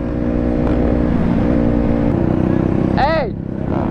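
A cheap Chinese-made dirt bike engine drones and revs steadily, a sustained buzzing motor sound, loud and close, with a brief higher squealing sweep near the end as the note dips.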